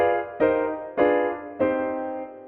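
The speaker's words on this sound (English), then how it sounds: "the 6 diminished scale by Barry Harris, and we apply that to the melody notes" Jazz piano melody harmonised with the Barry Harris sixth diminished scale, three struck chords about half a second apart, each ringing and slowly decaying, played alone.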